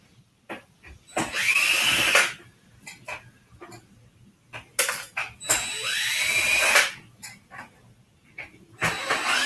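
Power drill backing screws out of scrap metal, with several whirring bursts that rise and fall in pitch, separated by clicks and handling knocks, close and loud with no talking.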